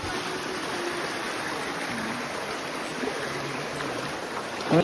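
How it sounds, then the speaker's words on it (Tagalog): Continuous broadband rushing water, like a river flowing, steady and fairly loud throughout with no voices. "Unang ilog natin ito."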